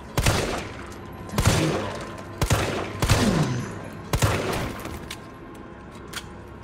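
Gunfire in the video game Resident Evil 3: about five sharp shots or short bursts at irregular intervals, each with a booming tail, loud against a quieter game background.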